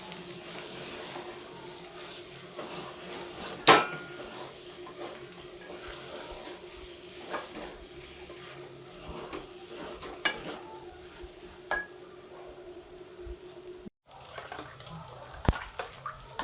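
A spoon stirs minced mutton and onions in a pot with a steady low background hum, occasional sharp clinks against the metal and soft wet scraping.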